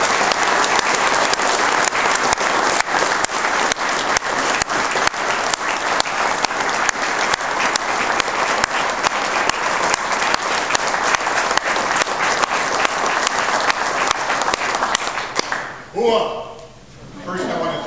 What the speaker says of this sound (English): I want to give a strong round of applause for Staff Sergeant Gene Del Porto.